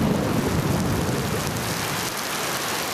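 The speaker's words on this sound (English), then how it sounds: "After even more rain began to fall on what is an already saturated area." Heavy rain pours down on an already flooded area, a dense, continuous roar with a low rumble underneath, steady and loud from start to finish.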